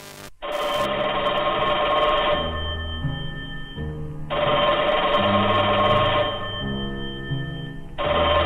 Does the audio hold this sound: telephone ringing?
yes